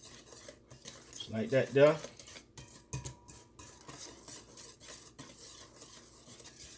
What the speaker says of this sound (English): And I'm going to be stirring it at the same time.